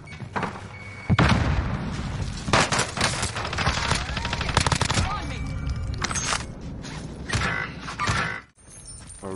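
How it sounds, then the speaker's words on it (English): Video game gunfire from a Twitch stream match: bursts of rapid automatic shots and sharp single cracks come close and loud through most of the clip, mixed with mechanical clatter, with voices talking over the action. "I'm taking fire."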